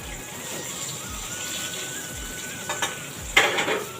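Brinjal fries in a pan in a home kitchen, a soft continuous sizzle with low thumps, then a few clinks of a utensil against the pan near the end.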